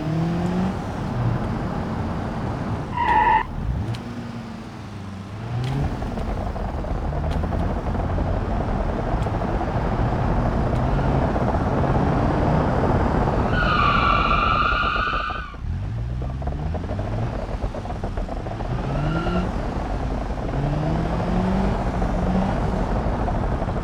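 A manual 1.8 GT car driving in BeamNG.drive, its engine note rising and falling through gear shifts amid steady road noise, with a short siren-like tone near the middle.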